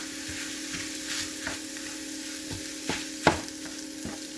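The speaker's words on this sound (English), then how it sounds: "Right now I'm just going to cook in the onions. Get those sauteed and softened up in there with the sausage." Onions sautéing with sausage in a pan, a steady close sizzle and fry with occasional scraping stir strokes, a sharper scrape near the end, no talking.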